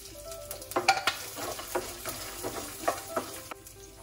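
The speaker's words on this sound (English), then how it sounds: "Then goes my peanuts and red chili and curry leaves. Saute this nicely." Peanuts, red chili and curry leaves sauté in a hot pan with a soft steady sizzle, while a spoon stirs and scrapes, giving irregular light knocks close by, with no one talking.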